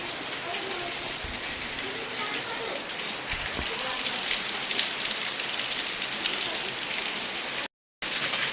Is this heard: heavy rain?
yes